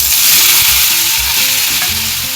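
Green chilies and tomatoes fry in hot oil, a loud close sizzle broken by repeated scraping and stirring knocks of a spoon in the pan.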